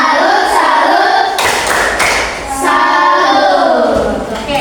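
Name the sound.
class clapping a tepuk salut clap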